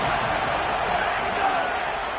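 A steady roar of a stadium crowd in a college football video game, broad and continuous without clear peaks, rising behind the defense on a big third down.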